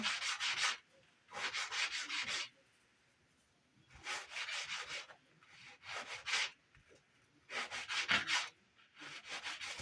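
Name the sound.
sanding a wooden trim piece by hand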